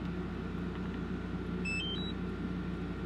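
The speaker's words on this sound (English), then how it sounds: "Lots of beeps are gonna happen" A drone powering on at a lakeside truck campsite gives a brief run of faint electronic beep tones over a steady, loud low rumble.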